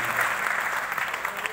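Steady applause from an audience at a Hindi poetry recital in Kanpur, a dense, continuous patter of clapping that holds at an even level throughout.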